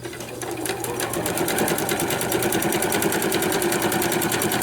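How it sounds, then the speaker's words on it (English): A sewing machine stitches a quarter-inch seam along a folded fabric piece of a sewing roll, giving a loud, continuous rapid mechanical chatter with an even needle rhythm, close up and without talk. "I'm going to go ahead and stitch a 1/4 inch in on this piece that I folded"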